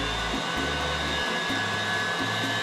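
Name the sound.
meat grinder grinding bacon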